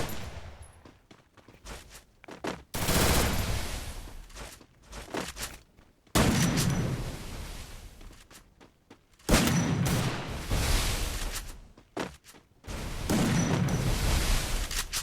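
Gunfire from a mobile shooter video game, loud bursts of rapid shots coming in several separate volleys with short quieter gaps between them.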